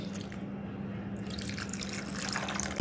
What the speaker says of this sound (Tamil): இது நல்லா முழுகிற அளவுக்கு தண்ணி ஊற்றிக்கலாம்